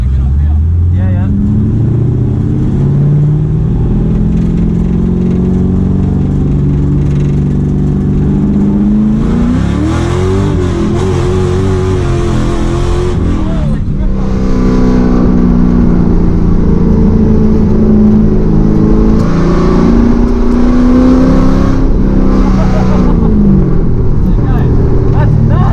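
An LS-engined Nissan S13 pro drift car heard from inside, its V8 droning and climbing through rising revs with strong swells, loud and steady throughout, with occupants talking over it.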